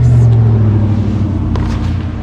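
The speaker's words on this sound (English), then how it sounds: "Sorry about the noise. There's a little bit of construction on our road here." Steady low rumble of machinery, like road construction equipment running nearby, with a brief higher clank partway through; no talking.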